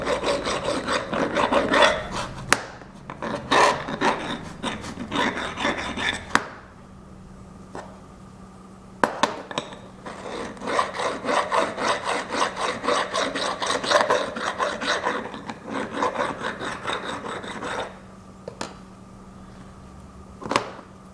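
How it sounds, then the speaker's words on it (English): Hand file deburring the edges of a machined metal part for an Alzmetall drill depth stop: repeated rasping strokes in quick bursts, with a short pause partway through, close to the microphone, and no talking. "Deburr some of these edges."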